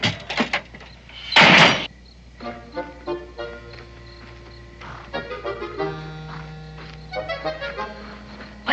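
Wooden benches crash over in a few loud knocks and clatters, with scattered thuds and creaks afterward and no talk.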